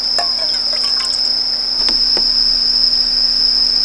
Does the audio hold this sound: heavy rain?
no